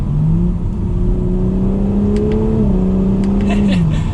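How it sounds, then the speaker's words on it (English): A 2021 Audi S4 Premium accelerating in dynamic mode, its steady mid-pitched engine and exhaust drone rising slightly as it pulls, with a brief dip around a quick gear shift; loud and continuous from inside the car. "It gives you a little bit of an exhaust note, especially in dynamic mode, and it's quick."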